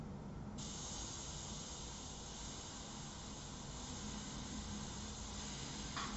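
An airbrush with something stuck in its nozzle sprays paint for a fashion portrait, giving a continuous close, even hiss with no pauses throughout.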